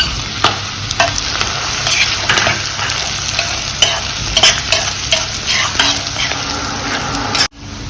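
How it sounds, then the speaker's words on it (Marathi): Cumin seeds and a crushed roasted peanut and chilli powder fry in hot oil, with a loud close crackling sizzle and repeated spatula scrapes and knocks against the pan, cutting off abruptly just before the end. "आता आपण तेलामध्ये टाकूयात जिरे, त्याच्यानंतर आपण केलेला शेंगादाणे आणि मिरचीचा कूट"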